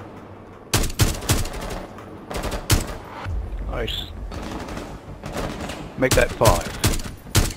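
Bursts of automatic gunfire from a Rainbow Six Siege hostage-rescue match crack out in repeated volleys, loud and close, with players talking over and between the shots.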